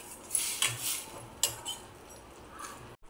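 A spoon scrapes and clinks against a pot while a cashew and potato curry is stirred, a few faint metallic taps and scrapes close by with no talking.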